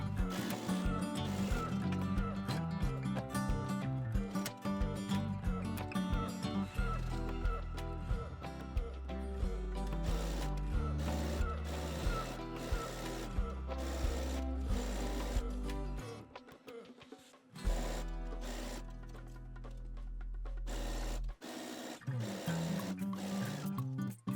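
A sewing machine stitches the layers of a vintage-style wrap blouse together along the curved edge, with loud, close, continuous rapid mechanical whirring and clatter that briefly falters about two-thirds of the way through before running on.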